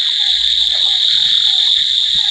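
Frogs croak steadily at a village reservoir, with a dense chorus of crickets or insects humming continuously above them, all loud and close with no talking.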